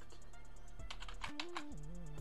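Computer keyboard typing comes as a short run of light key taps over a steady electronic hum and tones, with no voice present.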